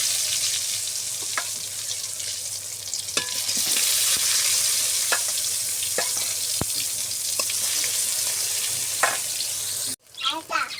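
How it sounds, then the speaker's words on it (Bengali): Salted, turmeric-coated eggplant slices frying in hot oil, a loud continuous close sizzle with occasional clicks of a spatula, cut off sharply near the end by a clatter. "আমি তেল দিয়ে দিয়েছি আমি বেগুন ভাজবো"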